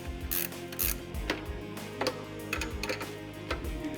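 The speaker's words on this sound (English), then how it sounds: "Start your nuts and then snug them up." A ratchet wrench snugs up nuts on a tow hook clamp while a Denominator Designs light bar mount goes onto a GMC truck, its pawl clicking in quick bursts of close, crisp ticks separated by short pauses.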